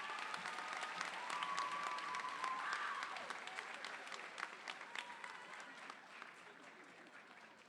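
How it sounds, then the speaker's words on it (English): Art students are applauded by an audience at an eighth-grade awards ceremony, moderately distant clapping that stays steady and then gradually thins into scattered claps, with some background voices. "So this is all the art students. Give them a big round of applause."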